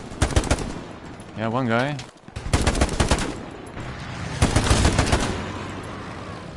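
Rapid bursts of automatic gunfire and single shots crack close by in the Hell Let Loose wartime shooter on PS5, with a short siren-like tone and a player talking between volleys.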